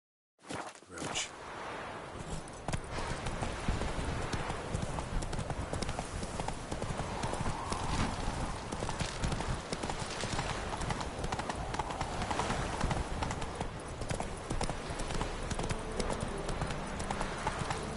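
Roach the horse trotting in The Witcher 3, a fast even clip-clop of hooves that keeps going, close and steady, after a brief start.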